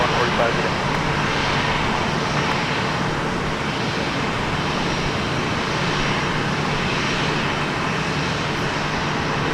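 Steady, loud roar of a Delta airliner's engines at Minneapolis–St. Paul airport, a continuous broadband rumble running the whole time, with voices talking faintly underneath.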